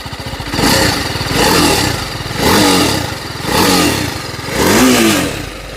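Close, loud TVS Apache RR310 motorcycle engine in track riding mode, revving in five quick throttle blips, each rising and falling over a raspy, clattering idle.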